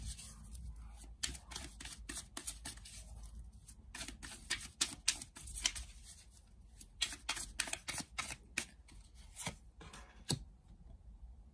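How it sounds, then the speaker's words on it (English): Tarot cards are shuffled and drawn from a deck, giving a long run of close, sharp slaps and riffling flicks in irregular bursts, with a little faint talk underneath. "Let's pull out a few more cards, see if we can narrow it down."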